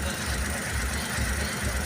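A Suzuki Every DB52 engine idles roughly with a misfire from a faulty ignition coil on cylinder three, a steady close rumble with an uneven low pulsing beat throughout.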